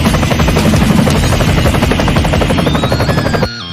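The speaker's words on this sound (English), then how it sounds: "the officers and helicopters chasing that school bus" Loud, close rhythmic thudding of helicopter rotor blades with a whining engine overhead, continuous until it cuts off abruptly near the end.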